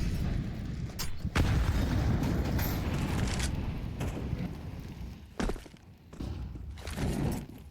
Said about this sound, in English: Get some nades dropping on his head